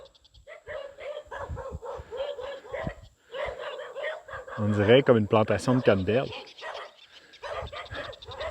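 Several dogs bark excitedly on a rural road in Brazil, sharp repeated barks close by and loudest in the middle, while someone speaks and laughs over them.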